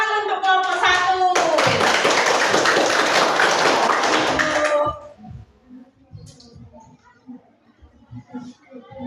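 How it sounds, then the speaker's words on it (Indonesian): A classroom group breaks into dense applause for a presenting team. The clapping is loud and lasts a few seconds after a voice, then stops and talking takes over. "Tepuk tangan untuk kelompok 1."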